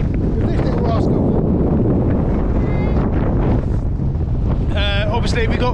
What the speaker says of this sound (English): Obviously we got 45 to 50 mile an hour winds again.